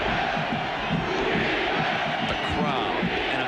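A huge football stadium crowd at a 1991 Oklahoma–Nebraska game cheers and roars in bad weather, a loud, sustained din with rising shouts throughout.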